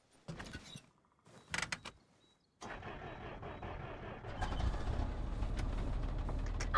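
Clicks and a door-like clunk, then a truck engine in Arma Reforger cranks and catches, settling into a steady low rumble that grows louder.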